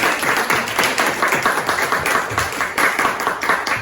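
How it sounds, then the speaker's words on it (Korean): A church congregation claps together in sustained, dense applause, loud and evenly spread, with no voices over it. "격려의 박수, 축하의 박수 했으면"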